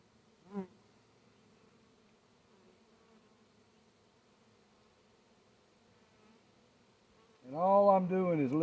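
Huge honey bee swarm being gathered into a hive box, a faint low hum through most of the stretch that swells into a loud, close, wavering buzz near the end, after one brief buzz early on.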